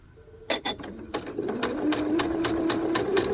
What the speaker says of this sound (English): I've lowered my stitch length, and I have sewn onto a leader so that my thread tension will be good.